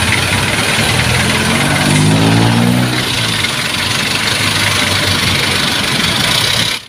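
A UB Express bus engine runs steadily at idle, a loud continuous low rumble with a brief rising drone in the middle, alone with no talk.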